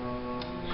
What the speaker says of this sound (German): Hier ist eine Uhr am Klicken.